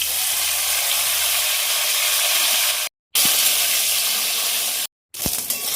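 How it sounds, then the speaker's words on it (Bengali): Okra sizzling in hot oil in a pan, a steady bright hiss with brief gaps, close and fairly loud with no talking. "আর একটু তেল, ঢেঁড়সটা একটু ভেজে নেবো।"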